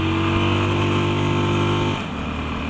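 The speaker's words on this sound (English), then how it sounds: "That'll be it, hitting the rev limit of them." A motorcycle engine held high against its rev limiter, a loud steady buzzing drone with stacked harmonics that cuts back sharply near the end to a lower, rougher note.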